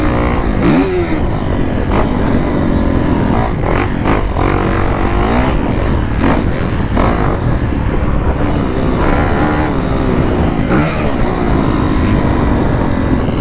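A dirt bike roars loudly around a rough motocross track, its engine revving up and down continuously with rising and falling pitch, close to the rider and unbroken throughout.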